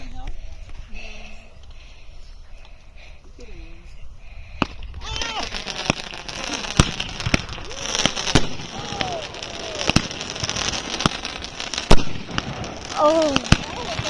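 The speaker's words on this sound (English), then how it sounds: "The fireworks are going off." Fireworks going off during a solar eclipse, a series of sharp bangs and crackling bursts, some with whistling trails, growing denser after a quieter start while people talk and react nearby.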